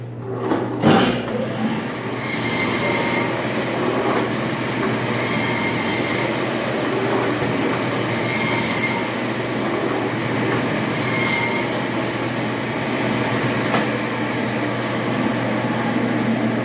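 A meat cutter's machine slicing pork butt, a loud steady screeching whine with repeated high squealing surges at regular intervals, close and continuous, no talking.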